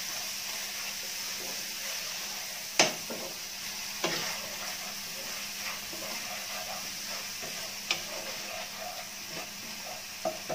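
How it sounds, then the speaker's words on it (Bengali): A spice paste sautéing in a pan on low heat, a quiet steady sizzle with a few sharp spoon knocks against the pan and light scraping as it is stirred. "মশলাটা দিয়ে জাস্ট কিছুক্ষণ আমি কষিয়ে নিব"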